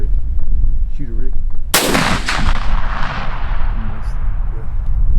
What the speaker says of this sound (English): Go ahead and shoot it, Rick.